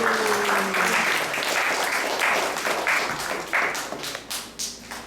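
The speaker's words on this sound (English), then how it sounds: "Let's give a round of applause for Lakshman Prabhu for bringing this moment." A temple audience breaks into a round of applause, dense loud clapping that thins out into scattered individual claps toward the end.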